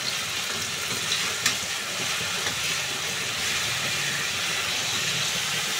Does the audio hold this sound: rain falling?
no